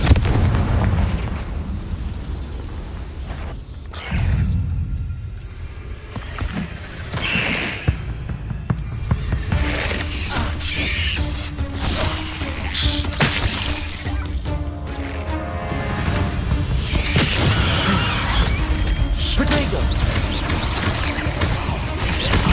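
Repeated Confringo fire spell blasts in the video game Hogwarts Legacy boom loudly over a dense, continuous backdrop of crackling, rumbling game effects for the whole stretch.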